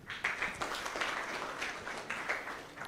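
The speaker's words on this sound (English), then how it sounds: "you can give him a round of applause" Conference audience at a university innovation week clapping for a presenter, a steady, fairly quiet patter of many hands lasting a few seconds with no talking over it.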